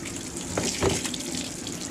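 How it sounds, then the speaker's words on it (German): Water gushes steadily from a hose or tap into a water bucket on a small farm garden, a continuous close splashing fill with no one speaking. "Jetzt müssen wir schnell meinen Wasserkübel da umstöpseln,"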